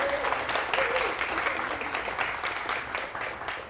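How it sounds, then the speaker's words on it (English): A Lexington audience gives a sustained round of applause welcoming a speaker to an evening talk, dense steady clapping filling the room from start to finish at an even level. "let's all welcome her with a big Lexington round of applause"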